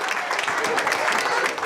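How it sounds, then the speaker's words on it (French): An audience under a tent applauds at a majorette contest, a dense, continuous patter of clapping close by, with no talk. "Seul trophée, les applaudissements."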